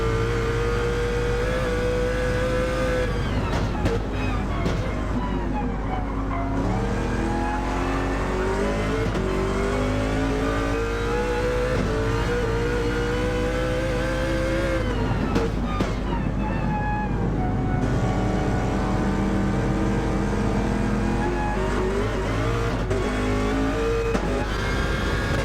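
Race cars lap the Nürburgring in Gran Turismo 7, engines droning and revving loudly and continuously, pitch rising and falling through gear changes over the endurance race.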